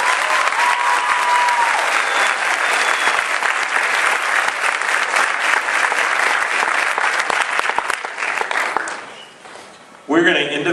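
A school audience applauds Prairie View High School student athletes at a 2012 National Signing Day ceremony: dense, sustained clapping that fills the room for about nine seconds, then thins and fades before a brief burst of noise.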